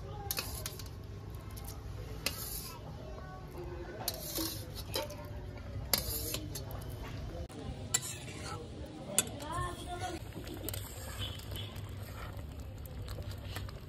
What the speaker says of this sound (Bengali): তো এবার আলু বেগুনটা দিয়ে দিচ্ছি।